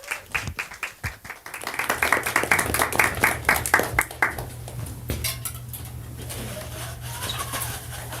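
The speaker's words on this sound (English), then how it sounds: "Give them one more big round of applause" Audience applause at a virtual showcase night for young creators, a burst of sharp claps at the start building into sustained clapping that fades after a few seconds, leaving a low hum and quiet room noise.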